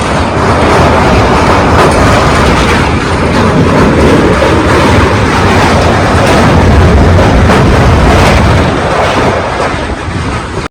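A passenger train running from Kozhikode to Agra makes a loud, continuous rumble and roar inside the carriage, with dense rattling and rhythmic clatter throughout.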